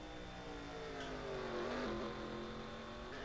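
A race car in a racing video game at Watkins Glen, its engine whining and shifting pitch as it locks up the rear wheels, heard fairly faint and steady without talk.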